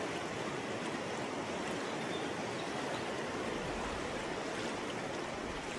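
Continuous rushing water, a steady broadband roar of the Bikin River over rocky rapids in the Sikhote-Alin region, even and unbroken throughout, with no voices.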